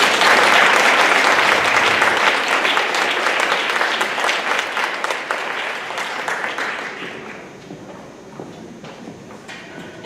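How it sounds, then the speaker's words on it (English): Audience applause at a school board meeting as orchestra students walk onto the stage, a dense, loud wash of clapping that thins and fades toward the end. "So can we have a round of applause as they're coming in?"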